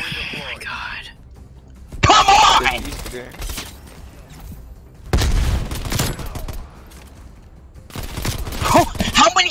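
Gunfire in Call of Duty Cold War comes in several loud, close bursts separated by quieter gaps, with players talking over the action between the shots.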